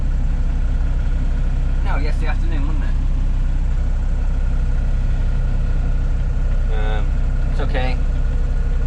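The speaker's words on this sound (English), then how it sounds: "Engine's been on since last night" A sailboat's engine running continuously at sea in the mid-Atlantic, a steady low drone throughout, with brief bits of people talking over it.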